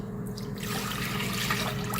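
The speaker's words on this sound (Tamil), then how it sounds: "ஒரு சொம்பு தண்ணி ஊற்றிருக்கேன் பாருங்கள்" Water from a small vessel poured into a cooking pot on a stove, a continuous splashing rush lasting the whole moment, close and steady.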